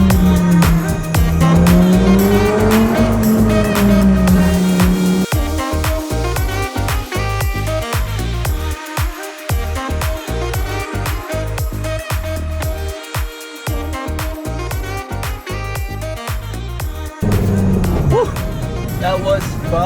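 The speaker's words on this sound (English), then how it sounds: "So let's go for a little ride and see how this car feels." A rebuilt Lamborghini Gallardo being driven on a road, its engine droning steadily up close with a rising and falling pitch as it revs, and cabin and road noise throughout.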